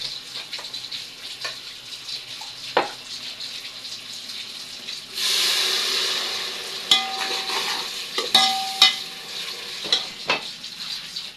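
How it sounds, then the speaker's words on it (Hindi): Water poured into a pan of frying onion and spice masala with coriander, salt, cumin, red chili and turmeric, a burst of hissing sizzle after quiet stirring and clinks, then scattered utensil knocks. "थोड़ा सा पानी डालेंगे इसमें।"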